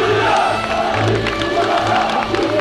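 A crowd cheers and shouts loudly and steadily for Erdoğan in the Fatih Mosque courtyard, a dense wall of voices with scattered whoops and possible applause mixed in.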